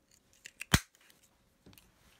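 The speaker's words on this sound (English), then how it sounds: "we're going to punch out some little glimmery circles" A single sharp punch from a 1/2-inch circle punch cutting a small glimmery paper circle, one crisp click near and clear, followed later by faint handling rustles.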